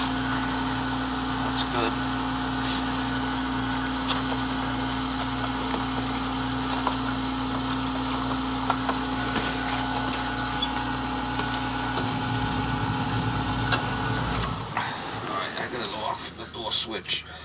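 An oil burner pump on an outside heating-oil tank at a mobile home runs in prime mode, a steady mechanical hum and whine that holds for about fourteen seconds before cutting off, with a person speaking briefly over it.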